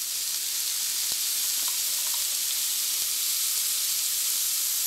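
Asparagus sautés in a pan with a steady sizzling hiss, close and even, broken by a few faint clicks of a utensil and no voices.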